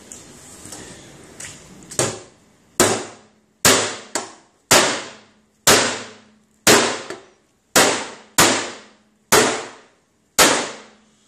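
In a garage, sharp metallic hammer blows strike a car fender in a steady, evenly spaced series, each ringing briefly before the next.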